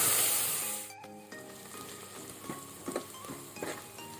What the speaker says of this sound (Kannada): ಮೆಣಸು, ಹಸಿಮೆಣಸು ಹಾಕಿ ಫ್ರೈ ಮಾಡಬೇಕು.